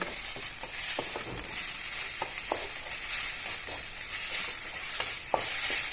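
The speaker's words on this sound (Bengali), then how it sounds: "এইখিনিও একেলগে ভাজি দিলোঁ একেবেলতে" Greens and local fish fry together in a pan with turmeric and salt, a loud constant sizzle broken by occasional stirring clicks of a spatula, with no voices.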